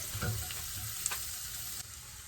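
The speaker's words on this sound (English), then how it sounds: "I'm going to fry it in butter and oil, add some soy sauce." Food sizzling in butter and oil with onion and garlic on a camper stove, a soft steady hiss with a brief stir and a small tap partway through.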